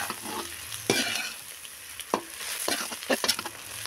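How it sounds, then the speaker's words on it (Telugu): Chicken fried rice tossed with masala is stirred in a hot pan, the spatula scraping and clacking in uneven strokes over a low sizzle. "ఈ మసాలా అంతా బాగా పట్టేటట్టు వాటికి బాగా కలపాలండి."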